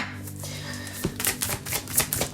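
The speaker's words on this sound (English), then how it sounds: "I'm going to go back to my other way of shuffling because this is making too many cards fly out." Tarot cards riffled and shuffled by hand, giving a run of quick papery clicks and flutters that grow busier and louder in the second half, close and alone.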